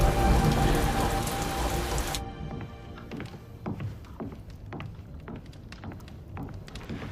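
Rain falls steadily outdoors, a loud dense downpour at first that suddenly drops to a softer patter of scattered drops on surfaces, with no talk.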